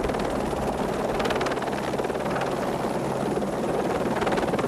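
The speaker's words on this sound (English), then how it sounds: "Depending on whether the helicopter has a lifting strop and the type of strop, it'll either hover at 5 feet or 15 feet above the load." A helicopter hovers a few feet above an underslung load on a ship's flight deck, its rotor beating in a loud, rapid, steady chop close by, with no voices over it.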